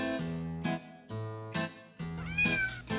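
A pet cat meows over and over, close and clear, in a run of about six drawn-out, tonal cries with short pauses between them, one rising and wavering near the end; no one speaks.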